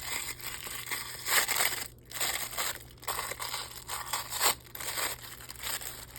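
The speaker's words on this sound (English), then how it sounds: "let's take off the cellophane because there's probably a glare" Cellophane wrapper on a junk journal cover crinkled and peeled off close by, a steady run of loud crackling and crumpling with short pauses, no talking.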